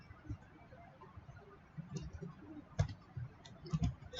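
Typing on a computer keyboard in Microsoft Word: soft, irregular key clicks in small bursts, quiet and close, growing a little busier toward the end.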